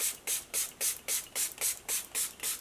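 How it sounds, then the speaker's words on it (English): Matte finishing face spritz from an Australis bottle sprayed in a quick run of about nine short, even hissing pumps, close and alone. "I might just spray my face first with the Australis. This is the matte finishing spritz."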